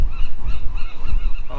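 Gulls or seabirds on Alcatraz call out in a loud, close run of repeated honking cries with a steady rhythm, heard alone with no talking.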